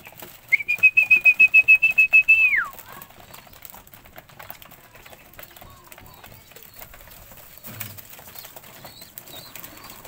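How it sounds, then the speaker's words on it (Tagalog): Pigeons kept for sale give a steady, clear whistling tone with a rapid pulsing flutter of wings, lasting about two seconds, then only quiet background sounds remain. "napakagandang mga ibon natin guys"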